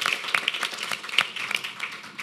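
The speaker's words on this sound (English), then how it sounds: "So a quick round of applause for them." A university panel audience gives a quick round of applause, scattered clapping over about two seconds, moderately close.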